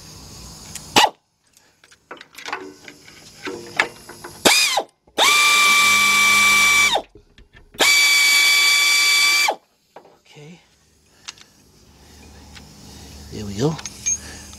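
A ratchet with a 10 mm deep socket loosens bolts on the 3.7 engine of a 2003 Jeep Liberty Sport, giving close, loud bursts of clicking and two steady mechanical whirring runs, with brief barking and low voices between them.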